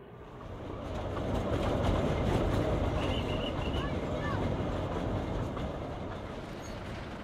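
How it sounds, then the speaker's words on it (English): A Mathera hill railway toy train rolls steadily along the tracks, its wheels giving a continuous low rumble and faint clatter with a brief high squeal partway through, sustained and fairly close throughout. "The train takes 90 minutes to get there"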